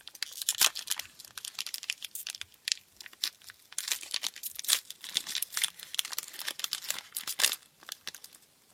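A Pokémon trading card booster pack wrapper being torn open by hand, a dense run of crisp crinkling and ripping foil, close and busy with short bursts and brief pauses, no voices.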